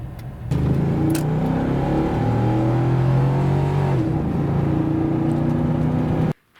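A 2002 Chevy Suburban with a 5.7-liter Vortec V8 revs steadily and loudly close by, its engine note rising and falling in a sustained run for about six seconds before cutting off abruptly.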